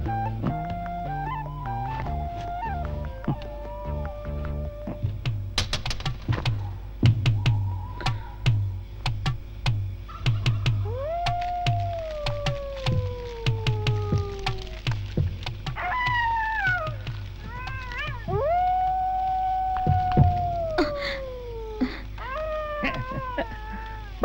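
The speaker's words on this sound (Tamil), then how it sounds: "பயப்படாத, நரி நரி." Foxes howl in a nighttime scene from the 1991 Tamil film Gunaa, long wavering cries sliding downward, repeated several times over a bed of steady ambient tone and scattered clicks.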